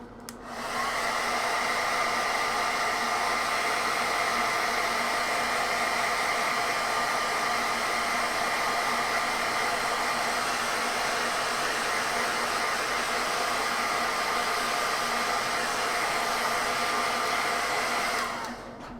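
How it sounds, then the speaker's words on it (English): A hair dryer blows continuously at full power, a loud, steady whooshing hum that runs unbroken from start to finish. "let's hit this with a hairdryer"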